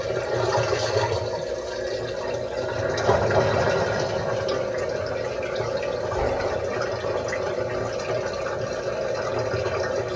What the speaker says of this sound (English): Water is being drained.